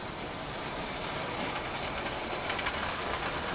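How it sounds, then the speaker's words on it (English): A narrow gauge model train headed by four small locomotives crosses a bridge, giving a steady, dense rolling rumble with faint clicking throughout, close and continuous. "this train is quadruple headed by 4 of the narrow gauge locomotives"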